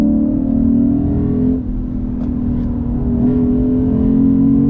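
A 2022 Lexus IS 500 F Sport Performance sedan accelerates hard under power, its engine drone loud and steady from start to finish, dipping slightly midway before climbing again.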